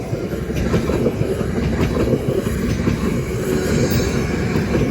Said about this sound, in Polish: Pięknie rozpędzająca się.